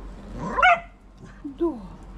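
Dogs give a couple of short, loud barks or yelps close by, with a pause between them, while a person talks softly to them.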